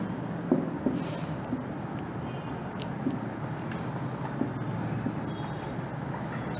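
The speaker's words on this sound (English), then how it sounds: "Let me write like this." Pen strokes scratch across paper during a chemistry lesson on chemical equations, faint steady scribbling close by over a constant background hum, with no speech.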